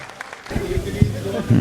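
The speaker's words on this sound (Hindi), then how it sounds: "आप पुरजोर तालियों में इस्तकबाल करें जनाब मंजर भोपाली का" Audience applause welcoming poet Manzar Bhopali to the stage at a mushaira in Jaipur, swelling after a short quiet lead-in into steady clapping that mixes with a voice talking over it.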